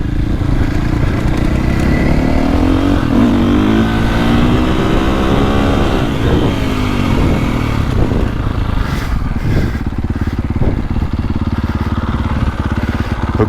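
A KTM 450 or 350 dirt bike engine revs loud and continuous while riding, rising and falling with throttle over a steady rough mechanical roar and no talking.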